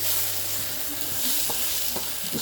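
Steady close sizzle of homemade tomato rice frying in a pan, with a few scraping stirs mixed into the hiss and no talking.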